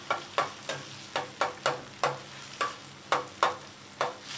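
A spiced mixture cooks in a pan for a breakfast dish while a spoon stirs it, giving a steady faint sizzle broken by about a dozen sharp, evenly spaced scraping strokes.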